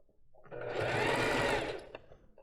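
A sewing machine stitches along the edge of a lace bra in one smooth, continuous run of about a second, close and fairly loud, with no talking.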